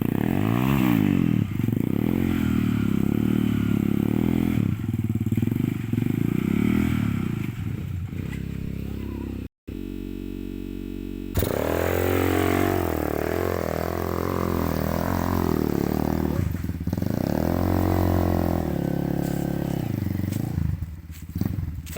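Trail motorcycle labouring up a rocky, technical trail at Villa Maria, Porac, its engine revving unevenly close by with scraping and clattering over stones, voices at times, and a brief cutout partway through.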